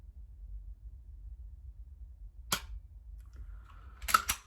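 Two sharp, dry clicks from a pistol dry-fired with the support hand, the first standing alone and the second a little later, close and crisp over a low steady background rumble.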